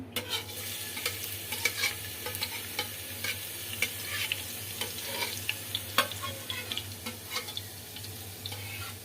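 Garlic fries in a non-stick pot in a home kitchen as a utensil stirs it, giving a steady sizzle broken by frequent scraping and clinking strokes, close and fairly quiet, with no talking.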